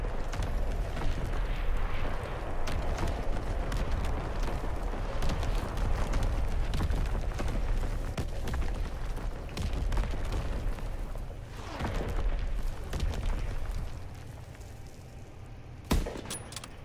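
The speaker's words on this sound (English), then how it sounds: "Incoming enemy artillery, get to cover." Artillery barrage in Call of Duty WW2 multiplayer, a loud, continuous rumble of overlapping explosions and crackling gunfire that rolls on for many seconds before thinning out, ending with one sharp nearby blast.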